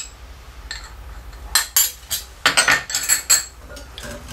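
A utensil stirs a shampoo soap mixture in a container, making scattered sharp clinks and scrapes that grow busier in the second half.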